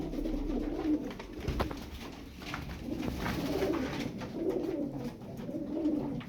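Tumbler pigeons coo in soft, repeated low murmurs, several birds overlapping at close range with light rustling in between.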